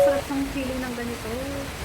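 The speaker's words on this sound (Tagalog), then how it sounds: "Umuulan na." Steady rain falls as an even hiss throughout while a voice talks over it.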